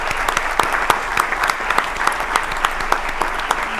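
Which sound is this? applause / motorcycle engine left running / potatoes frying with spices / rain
applause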